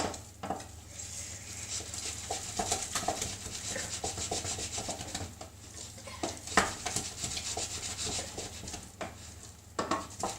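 A polenta chips mixture is mixed in a bowl without a whisk, giving close, continuous rhythmic rubbing and scraping strokes with occasional sharper knocks against the container.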